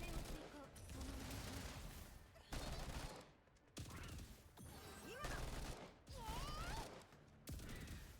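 Characters in the game Girls' Frontline 2: Exilium fire in repeated bursts of gunshots and mechanical clatter, broken into short volleys with brief gaps, set in a boss battle against Gunsmoke.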